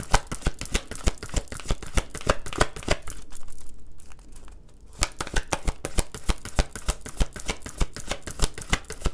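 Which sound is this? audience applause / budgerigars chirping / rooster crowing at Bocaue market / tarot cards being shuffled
tarot cards being shuffled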